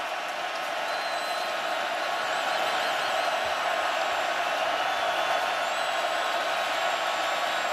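Football stadium crowd at a 2021 North Carolina vs. Virginia Tech college game, a dense, continuous roar with scattered whistles and shouts that holds loud and steady on third down.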